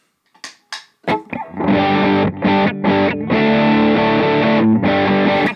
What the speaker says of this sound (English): I'm going to go ahead and play just some standard drive tones